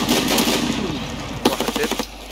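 Gunfire in an online shooter video game, a rapid run of sharp close shots forming a clattering burst that ends in a few louder separate cracks.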